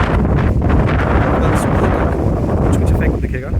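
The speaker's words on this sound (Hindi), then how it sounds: "एज यू कैन सी वही तेज़ हवाएं" Strong hurricane winds from Hurricane Lee sweep through Nova Scotia in 2023, a loud, constant roar buffeting the microphone for the whole stretch with no letup.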